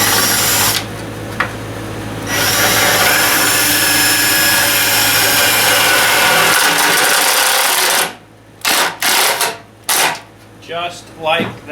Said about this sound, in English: This one needs to be totally drilled.